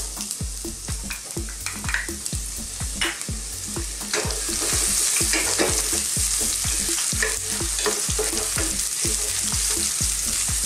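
Garlic and ginger sautéing in hot oil in a frying pan, a close sizzle that grows louder midway, with regular scraping strokes of a spatula stirring.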